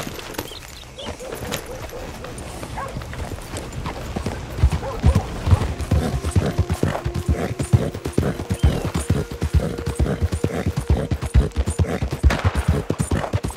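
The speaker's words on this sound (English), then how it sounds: "Oh, what's happening? What's happening? I just heard a gunshot." Gunfire rings out in Red Dead Redemption 2, a burst of sharp cracks amid clip-clopping horse hooves, the shots dense and fairly loud through the middle and end of the scene.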